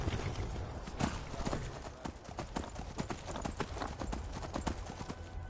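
Horse hooves clip-clop steadily in Skyrim Special Edition, a close, even gallop of sharp, regular hoofbeats running throughout over faint game ambience.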